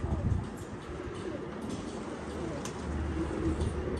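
Domestic pigeons coo softly amid ambient rooftop noise, low repeated throaty calls under a steady background hum, fairly close but not loud.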